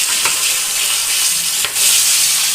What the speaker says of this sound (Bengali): সেই মাছ ভাজা তেলেই এখন আমি তেজপাতা কালো জিরে ফোড়ন দিয়ে আলুটাকে ভেজে নেব।